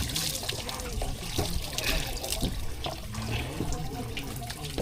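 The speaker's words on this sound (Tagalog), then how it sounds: "Banlaw lang ko, banlaw." Steady water running and splashing as items are rinsed, likely at a tap or basin aboard a fishing boat on the Pacific, a continuous wet wash with faint voices in the background.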